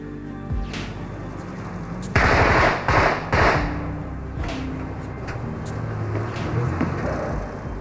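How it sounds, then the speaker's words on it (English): Gunfire in a street shooting incident in Strabane, Northern Ireland, during the Troubles: several sharp bursts of rapid shots crack over a noisy outdoor background, loud and echoing, with scattered single reports afterward. "This is the regular Saturday afternoon shooting incident in Strabane."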